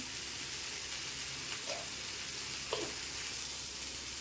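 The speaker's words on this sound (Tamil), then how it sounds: "இப்போ நல்லா வதக்கி விட்டு ஸ்டவ் ஆஃப் பண்ணிடுங்க" Radish chutney ingredients with curry leaves, coriander and cumin sautéing in a pan, a faint steady sizzle with a couple of soft scraping stirs.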